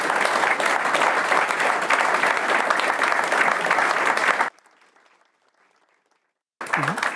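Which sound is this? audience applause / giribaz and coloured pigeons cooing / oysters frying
audience applause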